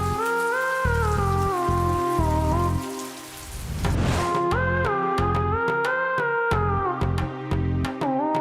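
Rain falls steadily in a drama scene, a constant wash of drops running beneath sustained music that carries through nearly the whole clip.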